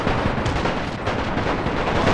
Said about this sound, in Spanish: la artillería francesa está cayendo sobre sus propias tropas